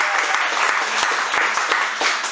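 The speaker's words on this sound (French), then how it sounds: "je voudrais aussi applaudir Annie, l'épouse de Roland." An audience at a local commercial festival applauds for a couple of seconds, dense steady clapping with sharp individual claps popping out through the wash.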